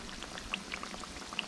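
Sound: homemade fried pies sizzling in hot oil

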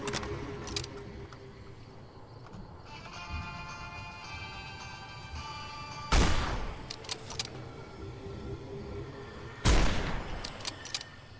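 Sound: gunfire in the video game Fallout (Deathclaw sniping)

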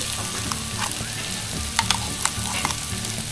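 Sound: masala paste added to sautéed tomatoes, frying in a pan

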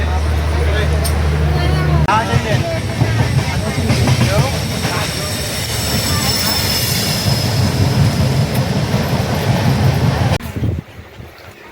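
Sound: train riding on rails

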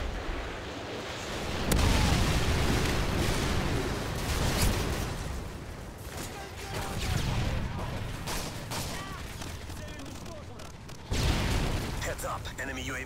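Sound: Predator missile explosion in Call of Duty: Modern Warfare 3 video game

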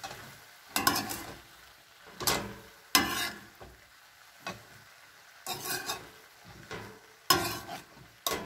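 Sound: stirring mixed vegetables with butter in a pan

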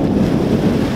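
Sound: strong wind blowing on the microphone

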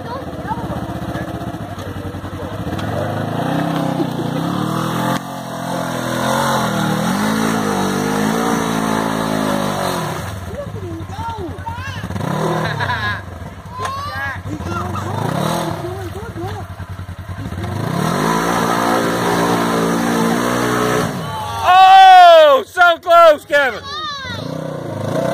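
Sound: Polaris RZR 900 S engine revving through black mud

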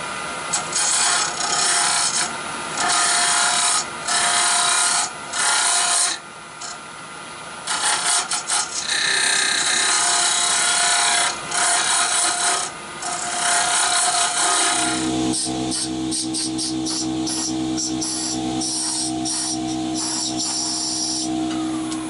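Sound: straight cutter hollowing a yew hollow form on a lathe

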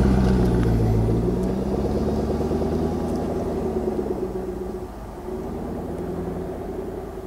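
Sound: Jaguar F-Type Coupé R driving on banked test track

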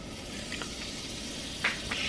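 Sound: butter sizzling in a hot frying pan

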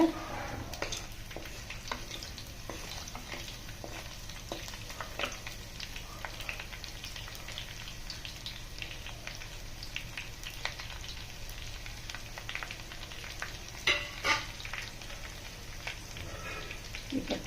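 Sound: garlic, mustard seeds and cumin sizzling in oil

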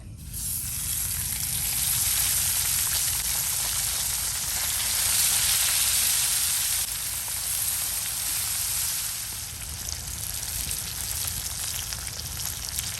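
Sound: tongue fish frying on a tawa

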